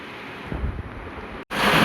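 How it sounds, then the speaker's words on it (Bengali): Wind blows outside on a rainy day: a close, rushing roar buffeting the microphone, cut by a brief break before the gust returns louder. "বাইরের হাওয়া"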